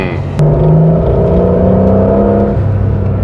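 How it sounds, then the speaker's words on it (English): A Porsche 992.2 Carrera GTS hybrid 911 cruising with its exhaust open and holding higher revs, giving a loud, steady engine drone that swells abruptly after a brief start and stays strong throughout. "Obviously the exhaust opens up a lot more, and also it holds the revs a lot higher as well."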